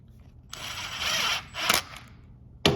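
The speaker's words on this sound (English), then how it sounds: "I'm going to spin all 5 of these in just loosely, just to snug them up" A ratchet spins brake rotor bolts in on a BMW R1200RT motorcycle wheel with Galfer wave rotors: a close burst of rapid clicking ratcheting, then a short sharper whir and a final click, with no talking.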